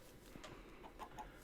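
Faint chicken clucks from Minecraft 1.12.2 modded Sky Adventures, a few soft short calls over a steady low background hum.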